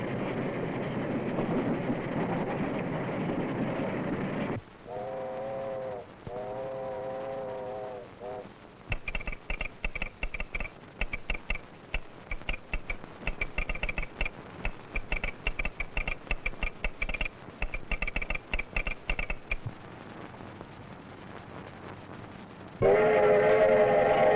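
A steam train rattles along the rails in a 1932 film soundtrack, with rapid rhythmic clacking through the middle, sustained whistle tones, and a loud rumbling engine at the start and end, all fairly close.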